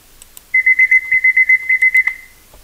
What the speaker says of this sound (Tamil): அந்த தேவையில்லாத ஒரு அலாரம் சவுண்டு.